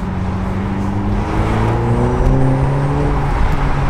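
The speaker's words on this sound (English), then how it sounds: "it's like this kind of like overrun turbo kind of zing noise at the same time" BMW Z4 accelerating with a rising engine note climbing through the gears, an overrun turbo zing over a steady, close, loud drone with no talking.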